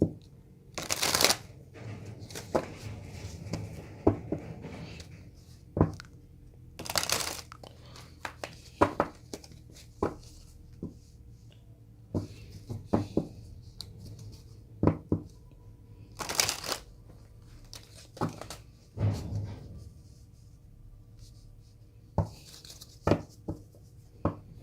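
Tarot cards are shuffled and drawn by hand, close up: crisp riffling bursts and soft slaps and flicks of card stock come in irregular clusters, with quiet gaps between.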